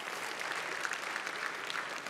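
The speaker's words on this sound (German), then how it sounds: "Bitte einen grossen Applaus auch für diesen Einsatz." An audience at a political party's anniversary celebration in a concert hall gives steady, sustained applause, a soft, fairly distant and even patter of many hands with no voices over it.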